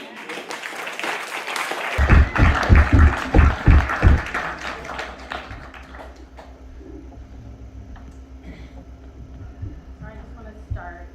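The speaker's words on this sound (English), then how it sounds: "we should all give the people who cleaned it and take care of it a big round of applause" An audience at a celebration of life in Canada breaks into a burst of applause, dense at first, then thinning into scattered claps and thumps over a low room hum with some voices.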